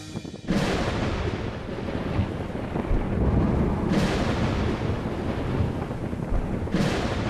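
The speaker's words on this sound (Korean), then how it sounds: "비구름 한 점 없는 마른 하늘에 가끔 천둥과 번개가 요란하게 수를 놓습니다." Thunder rumbles over the Gobi desert under a cloudless dry sky, a continuous loud low roar with a few sharper cracking surges spread through the stretch.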